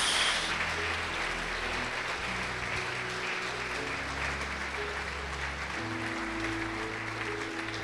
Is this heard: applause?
yes